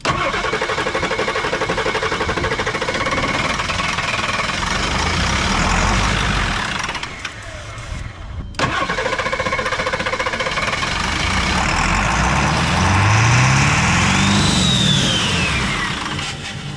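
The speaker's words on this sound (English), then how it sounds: "We're gonna try to get this running, started up." Ford Ranchero engine cranking and then starting, a loud, steady mechanical churn that breaks off briefly in the middle, then comes back and rises as the engine catches and revs.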